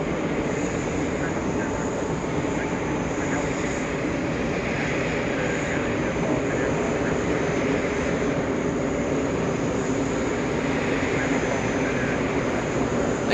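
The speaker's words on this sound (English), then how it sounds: "Big one coming in, American 67 flying in from Barcelona, Spain" An American Airlines Boeing 777-200 arriving from Barcelona lands on runway 22 left at JFK, a steady broadband engine roar holding loud and constant throughout, with faint voices underneath.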